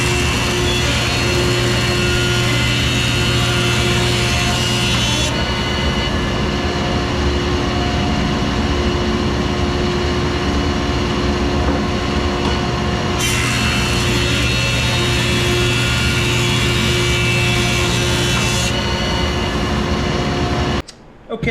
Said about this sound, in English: Let's take it over to the planer and let's get her down to size.